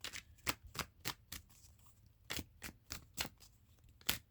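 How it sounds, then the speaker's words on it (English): Tarot cards being shuffled by hand, a series of crisp riffling bursts in uneven rhythm, close and fairly quiet with no talk. "Good shuffle going. Good shuffle."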